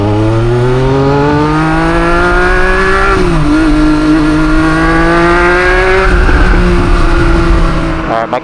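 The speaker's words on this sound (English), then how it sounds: "clutch is slipping for sure." A Triumph Street Triple 765 RS motorcycle with a slipping clutch revs loudly and steadily with rising, sagging engine pitch, recorded close from the rider's seat.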